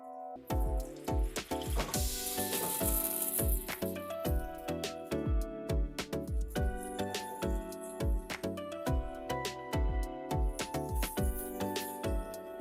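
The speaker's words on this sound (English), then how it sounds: "Put blue band and oil. We're going to let it melt." Blue Band margarine melting with cooking oil in a pan for homemade Rolex, a steady close sizzle and crackle with sharp pops and spits throughout, kitchen clatter and tonal background noise mixed in.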